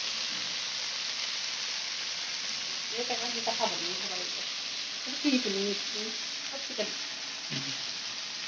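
Cumin seeds frying in hot oil, a steady hiss of sizzling that runs throughout, with someone talking intermittently over it.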